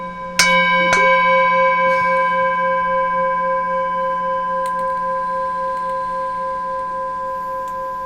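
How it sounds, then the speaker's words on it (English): A single gong or bell is struck near the start, with a second hit just after, then a long steady metallic ring fades slowly, heard alone without talk during a podcast break. "Let me find the gong."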